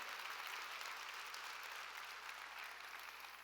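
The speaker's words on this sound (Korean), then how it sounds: "박수로 하나님께 영광을 돌려야 됩니다" Congregation applause during a church sermon, dense continuous clapping from a large crowd, even and sustained throughout, heard at a slight distance.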